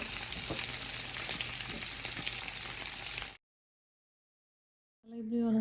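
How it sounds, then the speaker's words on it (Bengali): Spices and onion leaves frying in a pan, a steady close sizzle that runs loud for about three seconds, then cuts to silence before a voice begins. "মশলাটাকে আমি ভালোভাবে কষিয়ে নিচ্ছি"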